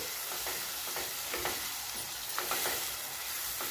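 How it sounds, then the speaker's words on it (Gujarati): Tomato gravy stirred into hot oil with hing for a sev tameta shaak, a soft steady sizzle with scraping stirs and spoon taps close by, no talking. "આપણે જે ટામેટાની ગ્રેવી બનાવીને રાખી છે તે એડ કરી દઈશું બરાબર મિક્સ કરી લઈશું"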